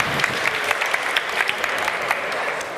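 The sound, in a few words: audience applause for a startup on stage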